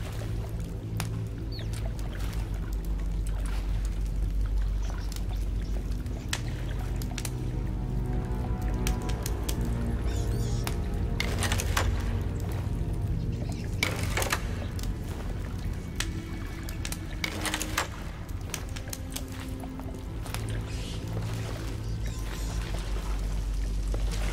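Flowing sewer water in the video game Dishonored, a steady loud rushing wash running throughout with occasional splashy bursts and game sounds layered on top.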